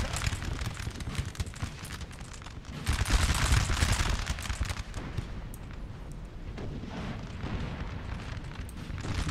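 Artillery and canister fire in a Napoleonic battle of Napoleon Total War, the 1806 Saalfeld engagement: continuous rolling gunfire and booming volleys with a louder burst partway through, dense and distant-to-mid range, no talk.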